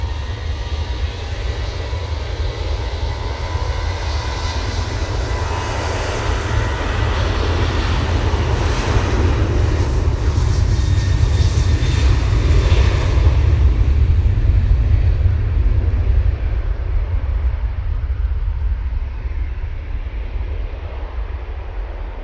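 TUI airliner in plain livery at Manchester Airport, engines spooling up into a loud, sustained takeoff roar with deep rumble and rising whine, building steadily and filling the scene alone without voices.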